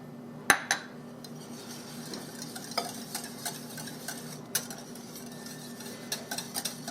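A spoon stirring apple bread batter with vegetable oil and vanilla in a bowl, producing soft wet swishing with irregular light clinks against the side, close and fairly quiet, with no talking.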